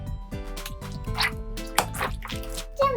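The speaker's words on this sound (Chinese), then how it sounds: "听着这个水声，真舒服" Fake-water slime blended from six bottles squelches and drips in close, wet bursts, with repeated soft squishes and small plops coming one after another in an uneven rhythm.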